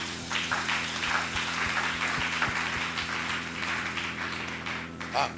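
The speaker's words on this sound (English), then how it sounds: "Can you clap at what I just said?" A church congregation claps during a sermon, a scattered, moderate patter of hands under a low murmur of voices and a steady background hum, with a few sharper claps standing out.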